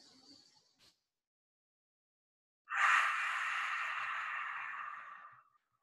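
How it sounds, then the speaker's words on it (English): A single long exhale through the mouth during a guided children's yoga breathing exercise, a soft airy breath lasting about three seconds and fading out, heard close and alone after a brief faint sound at the start. "And breathe out through the mouth."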